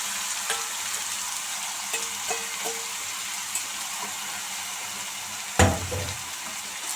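Bottle gourd leaves sizzle steadily while being stirred and fried in a pan, with scattered utensil scrapes and taps and one sharp louder clatter near the end, close and without talk.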